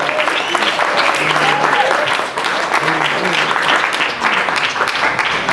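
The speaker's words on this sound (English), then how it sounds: "you deserve a round of applause for sure" Loud, sustained applause from a crowd at a graduation celebration, honoring Dr. Purnell, with a dense wash of clapping filling the whole stretch and some voices mixed in.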